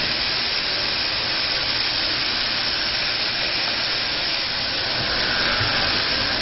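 Canister vacuum running close up while cleaning along the edge of a floor, a steady loud whooshing hiss of suction that continues unbroken throughout.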